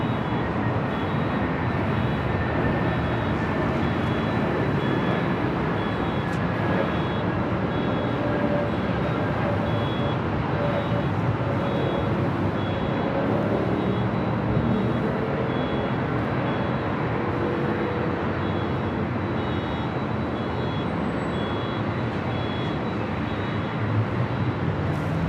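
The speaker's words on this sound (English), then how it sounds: "Delta A321 Neo" A Delta Airbus A321neo arrives on runway 24 right at Los Angeles International Airport, a steady broad jet roar that holds level and fairly loud throughout, with no voices.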